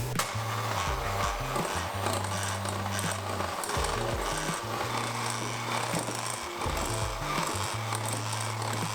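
An electric mixer beats cheesecake bar batter with rhubarb and a little cardamom, a close, loud motor hum with steady beater clatter and stepped pitch shifts as the load changes, no voices.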